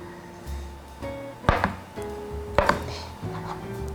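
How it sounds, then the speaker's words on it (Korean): A kitchen knife cuts through fried Korean fish cake (eomuk) on a cutting board, with two crisp chops striking the board against a quiet background. "먹기 좋은 크기로 이렇게 썰어 주세요."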